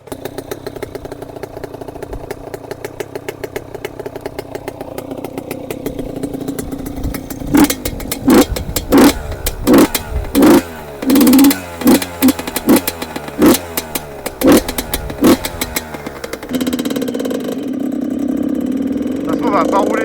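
An 85cc two-stroke motorcycle engine idles with a crackly buzz, then revs in a string of sharp, loud blips before settling into a higher, steady drone, heard up close.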